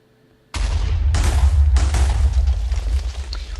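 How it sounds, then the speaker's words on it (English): A Minecraft explosion with the Galacticraft mod on the moon sets off a sudden loud, sustained roaring blast with several rapid booming bursts layered together, loud and close, rumbling on for about three seconds. "We did get an explosion."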